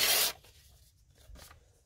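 Dry paper rubbed against a VCR video head: a close, brief scratchy rubbing burst, then faint soft scraping with no talking.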